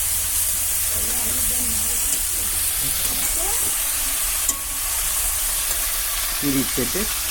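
A thin curry of live bata fish with aubergine, potato and drumstick stalks bubbling in a pan, a steady close sizzle and hiss with stirring, and voices talking faintly over it.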